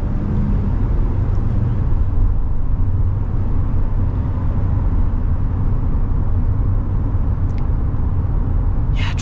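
Inside a 2024 Ram ProMaster front-wheel-drive cargo van on the road, a steady low engine and road rumble fills the cabin, continuous and fairly loud, with a faint tick near the end and no talking.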